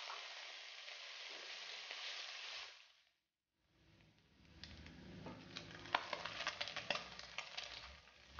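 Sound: calabresa sausage and bacon frying in a pan

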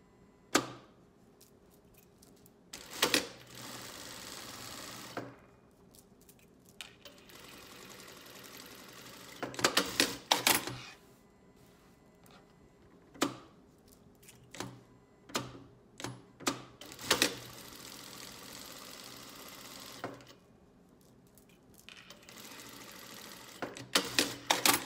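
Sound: sewing machine stitching a seam

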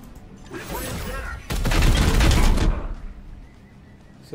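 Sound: gunfire from the video game Warhammer 40k: Chaos Gate - Daemonhunters

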